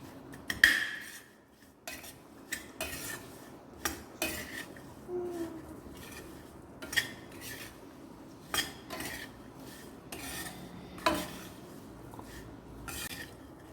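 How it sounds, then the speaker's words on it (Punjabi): A spoon stirs chopped green chillies into spice masala for an instant pickle, knocking and scraping against a metal bowl in sharp, close clinks at uneven intervals in a quiet kitchen. "ਹੁਣ ਆਪਾਂ ਕੱਟੀਆਂ ਹੋਈਆਂ ਹਰੀਆਂ ਮਿਰਚਾਂ ਦਾ ਵਿੱਚ ਪਾ ਦਾਂਗੇ ਚੰਗੀ ਤਰ੍ਹਾਂ ਇਹਨਾਂ ਨੂੰ ਮਿਕਸ ਕਰ ਦਾਂਗੇ"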